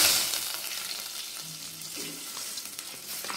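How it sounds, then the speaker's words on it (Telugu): Cashews frying in ghee give a steady, close sizzle with soft stirring, continuing alone without talk. "జీడిపప్పు అయితే మనకి వేగిపోయాయి, ఇంక తీసేద్దాం"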